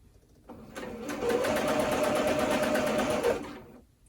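A sewing machine stitches slowly down the pocket of a men's dress shirt, a steady mechanical whir running for about three seconds that ramps up, holds evenly, then stops, with no talking.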